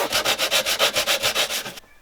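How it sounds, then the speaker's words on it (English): Rapid back-and-forth strokes of a hand saw cutting timber, about fourteen even rasping pulls in quick rhythm, then the sawing stops abruptly. "for small cuts I really like using my hand saw"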